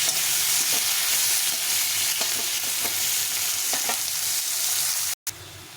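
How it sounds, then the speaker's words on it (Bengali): Sliced onions frying in a pan for a fish curry, a steady close sizzle and crackle with faint stirring scrapes throughout and a brief cut near the end, no talking. "পেঁয়াজটা দিয়ে দিলাম পেঁয়াজটা একটু লাল লাল করে ভেজে নিতে হবে"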